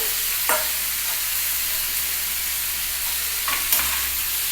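Steady sizzling of flattened rice (poha) frying in a pan with salt, with a couple of brief scraping stirs cutting through the constant hiss.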